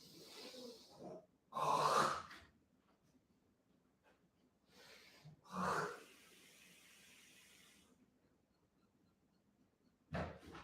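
A person coughs in a few short, harsh bursts separated by quiet pauses, close to the microphone at a low overall level, with soft breathing between.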